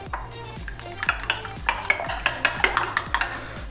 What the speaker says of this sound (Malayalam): ഇതൊന്ന് ബീറ്റ് ചെയ്യാവുന്നതാണ് കേട്ടോ.